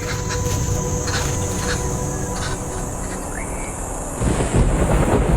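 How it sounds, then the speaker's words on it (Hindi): Thunder rolls across the distant sky over the dry Ruaha landscape in November, a long low rumble that swells near the end above a steady background. "लेकिन तभी दूर आसमान में बिजली कड़की तो उम्मीद की एक नई किरण नजर आई।"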